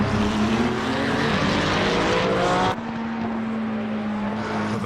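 Porsche and Ferrari GT3 race cars roar in Assetto Corsa Competizione, a steady, loud engine drone holding one pitch with a sudden drop in level partway through as the pack passes.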